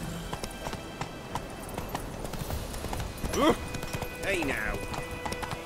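A horse's hooves clip-clop at a steady gait in the video game The Witcher 3, close and rhythmic throughout, with a character's voice speaking over the hoofbeats.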